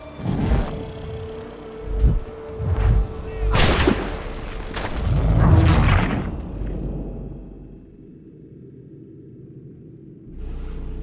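Several heavy booming blasts and sharp cracks of cannon fire in Assassin's Creed 3 Remastered, spaced irregularly, followed by a quieter rumbling lull and a final thump.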